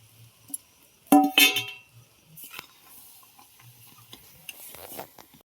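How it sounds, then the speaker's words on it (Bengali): Coconut filling for patisapta is stirred slowly in a pan, producing sparse scrapes and taps with a louder cluster of strokes early on, then quieter intermittent stirring. "এইভাবে নেড়ে নেড়ে আমি দশ মিনিট ধরে এভাবে আস্তে হালকা হালকা নেড়ে নেড়ে"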